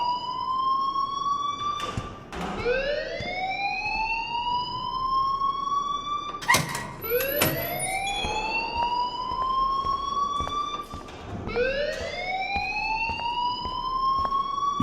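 A school fire alarm in Life Is Strange wails in repeated rising sweeps, three long upward glides about every five seconds, loud and continuous with a harsh buzzy edge and no talk over it.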